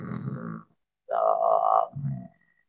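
Closed-mouth purring hum made by a voice imitating a cat or toad purr during a voice exercise, three short buzzy hummed bursts separated by brief silences, close and clear.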